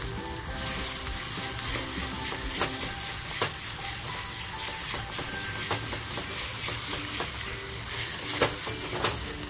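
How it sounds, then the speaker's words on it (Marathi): Salted prawns frying in a pan, a dense, loud, continuous sizzle and crackle with scattered pops and occasional stirring scrapes, heard up close. "ती कोळंबी आता याच्यामध्ये छान अशी फ्राय करते"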